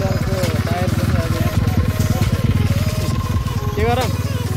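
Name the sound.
scooter engine running on a muddy road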